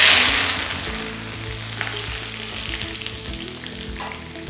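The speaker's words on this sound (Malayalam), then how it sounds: "ഇതെല്ലാം കൂടെ വറുത്ത് വരിക." Dry red chillies and a handful of curry leaves fry in hot oil for a Kerala mixture, giving a loud, bright sizzle at the start that settles into a steady crackling bubble, close up and without voices.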